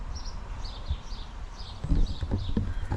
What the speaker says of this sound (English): We've got llamas and all sorts. Llamas, sheeps, donkeys.